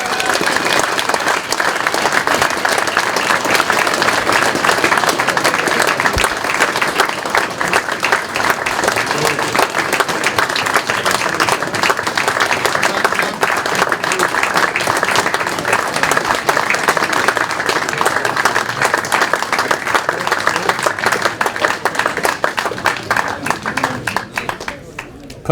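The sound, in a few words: crowd applauding the Poole Pirates speedway team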